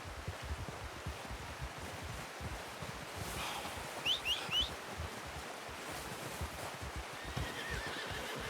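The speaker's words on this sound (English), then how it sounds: "I'm gonna get this packed on my horse." A horse in Red Dead Redemption 2 gives a short whinnying neigh around the middle of the scene, over steady outdoor ambience with hoof clip-clop and rustling, no one speaking.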